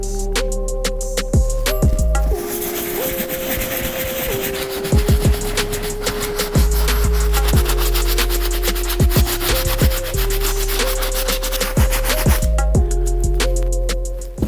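Medium brush scrubbing the white leather uppers of an Air Jordan 1 sneaker, close rhythmic bristle rubbing strokes over a steady background tone.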